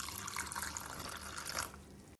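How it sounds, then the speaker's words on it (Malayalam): Water pours steadily into a mixer grinder jar holding a partly ground paste for a turkey berry curry, a close, rushing splash lasting under two seconds before it stops abruptly. "ഇനി ഇതിലേക്ക് കുറച്ച് വെള്ളം ചേർക്കാം"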